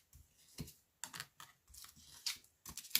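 Tarot cards being drawn from a deck, with a string of close, crisp card slides and flicks, several quick taps and shuffling bursts in irregular rhythm, no talk.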